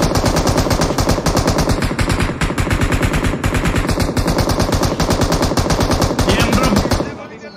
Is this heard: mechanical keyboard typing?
no